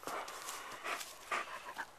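A puppy pants close by in quick, rhythmic, breathy huffs, with a few faint snorts and whimpers mixed in, fairly quiet overall.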